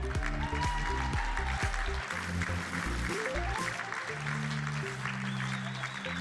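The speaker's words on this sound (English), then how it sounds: "Warm round of applause, please, for Janet Dooley of the Williamstown Football Club" A crowd claps warmly at a football club awards night, the 2018 VFL Best and Fairest, with sustained applause running beneath loud, tonal walk-on music throughout.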